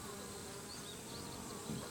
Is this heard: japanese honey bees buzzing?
yes